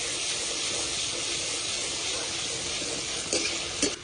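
Tomato, ginger and green chili masala frying in a pan for a potato curry, a steady close sizzle and hiss throughout with a couple of brief scraping stirs near the end, no voices.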